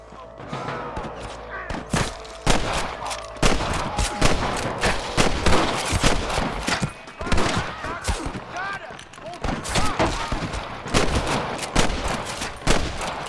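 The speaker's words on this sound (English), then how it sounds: "I can hear more gunshots." Dense, sustained gunfire in the video game Red Dead Redemption, rapid volleys of sharp shots overlapping throughout like an intense firefight, with shouted voices mixed in.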